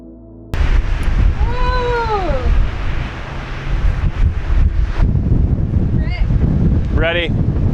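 Strong wind gusts roar continuously across the microphone in a Utah canyon, loud and buffeting, with a few brief squeaky animal-like calls poking through.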